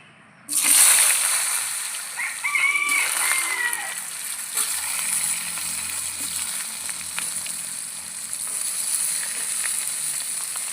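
Washed, cut potatoes drop into hot oil with tempering spices, setting off a sudden loud sizzle that settles into steady, close frying hiss with faint stirring and clatter.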